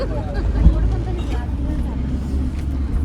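A bus rolls along a mountain road near Kasol with a steady low engine drone and road rumble, heard from inside, with people talking over it.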